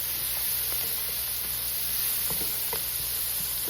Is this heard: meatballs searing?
yes